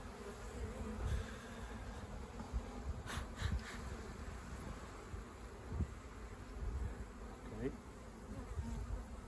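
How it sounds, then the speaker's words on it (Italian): Honeybees buzz in a dense, steady drone around an opened hive in early spring as new bees emerge, continuous and close, with a brief spoken word and some handling noises. "già con le api nuove, ci sono già le api nuove"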